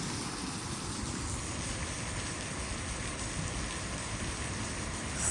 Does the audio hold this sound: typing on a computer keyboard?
no